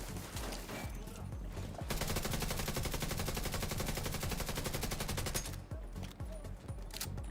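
Rapid machine-gun fire in the shooter The Division 2, a loud sustained automatic burst lasting several seconds, framed by scattered single shots before and after, with occasional voices.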